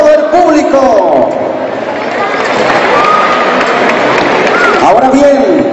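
Crowd applause and cheering rise for a Veracruz-style third-place prize winner at a dance contest award, a dense steady roar of clapping with excited voices mixed in, sustained throughout.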